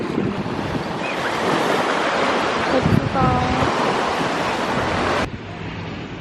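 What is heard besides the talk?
sea waves at a beach in Portugal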